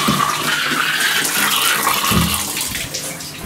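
A basement sink faucet runs wide open during a household plumbing test, giving a loud, close, continuous rush of water splashing into the basin, with no talking.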